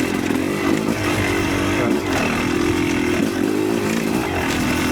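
A Yamaha YZ300 electric-start dirt bike engine runs steadily and loudly up close, holding a constant buzzy drone with no clear revving.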